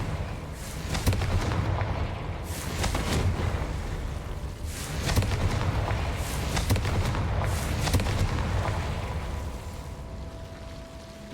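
A Confringo fire spell blasts again and again in a Harry Potter video game, a string of loud booming explosions with rumbling low thuds roughly every two seconds over a steady, dense background of game noise.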